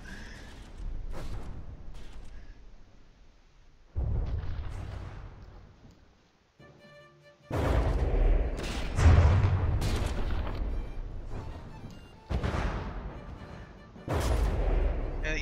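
Warship guns firing in the naval combat game From the Depths, a series of heavy booming blasts and explosions with rumbling decays between them, some loud and close, others more distant.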